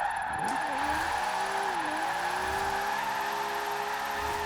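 The Mona Lisa car from Fast & Furious Tokyo Drift drifts in Forza Horizon 4, its engine droning steadily under a loud, sustained tire squeal that bends in pitch as the slide shifts.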